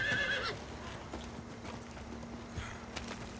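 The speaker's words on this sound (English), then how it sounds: "And now I gotta get off the horse." Horse hooves clip-clop steadily in the Diablo 4 video game, with a short neigh at the start over a constant low hum and ambient background, no talking.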